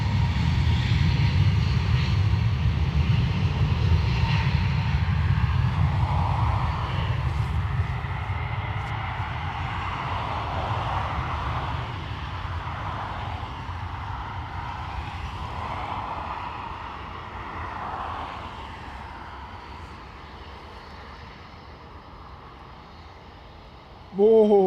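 Aircraft rolling down the runway at Dublin Airport, a steady loud low engine roar and rumble that holds for over twenty seconds, slowly easing, with faint voices mixed in.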